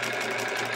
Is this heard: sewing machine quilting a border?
yes